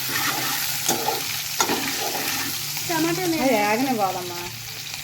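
Upma being stirred in a pan on the stove, a steady close sizzle and scraping stir that runs throughout, while someone speaks over it in Telugu.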